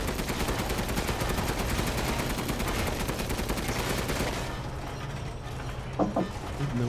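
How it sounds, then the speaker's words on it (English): Rapid, loud bursts of heavy cannon fire in a video game (Resident Evil Village) hammer continuously for several seconds, then drop to a quieter mechanical rumble with a few sharp clanks. "Firing cannon at close proximity."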